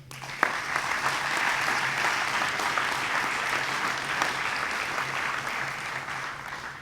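An award-ceremony audience claps for honoured recipients at a Slovenian higher vocational schools' anniversary event, giving sustained, dense applause that holds steady from start to finish with no voices on top.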